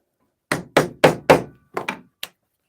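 A small hand hammer strikes a workpiece at a forge: seven sharp, close knocks, four in a quick even run, then a pause and three lighter taps, each decaying quickly into silence.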